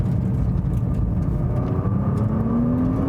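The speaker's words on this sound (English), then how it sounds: "once the turbo kicks in, this thing goes like bonkers" A turbocharged car accelerates hard, its engine a loud, continuous close-up roar with a rising whine climbing in pitch as the revs build, with no talk over it.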